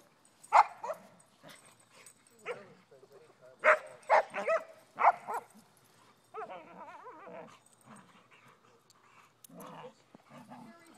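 A dog lets out a run of sharp barks mixed with whiny whimpers and yips, with people talking softly in between.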